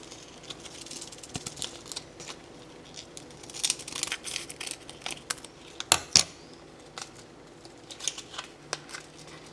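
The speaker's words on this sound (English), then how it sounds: "Unfortunately it's a new pack, so we're going to cut that open." Scissors cut open a new pack of cheese culture at home, giving close, intermittent snips and crinkling of the packet with a few sharper clicks midway.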